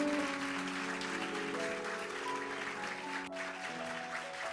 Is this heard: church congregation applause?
yes